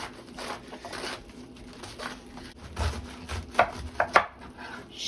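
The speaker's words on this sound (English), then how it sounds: "Cut your cabbage. You can shred it, but I'm just gonna chop it." Knife chopping cabbage on a cutting board for borscht, heard as a few soft, scattered taps that sharpen into several distinct cuts near the end, close and fairly quiet, with no talking.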